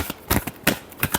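Tarot cards give a few quick, close, soft flicks during a final brief shuffle: about four short papery taps in just over a second.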